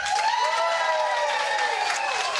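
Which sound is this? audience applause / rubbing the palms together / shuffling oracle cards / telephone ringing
audience applause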